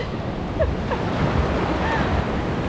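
Ocean surf at El Tunco beach in El Salvador rushes and churns in a continuous wash of breaking waves, mixed with wind buffeting the microphone.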